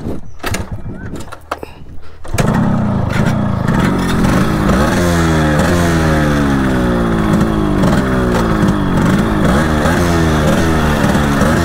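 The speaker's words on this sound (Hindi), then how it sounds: "पहले बाइक स्टार्ट करते हैं।" A Yamaha RX motorcycle fires up after a short moment of background noise, then idles and revs repeatedly with a loud, close, throbbing engine note.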